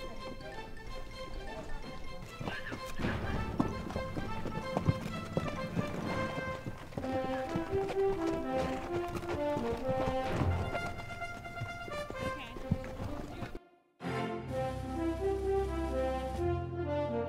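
Horses on a guest ranch trail ride clip-clop in a steady, quiet rhythm, with a brief pause near the end and one short spoken word.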